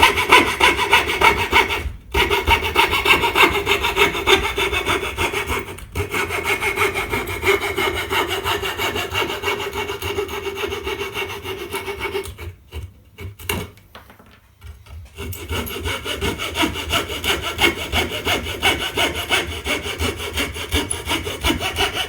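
A hand saw cuts wood for a dovetail joint in steady, loud back-and-forth strokes, pausing briefly twice and once for a longer break before the rhythmic rasping resumes.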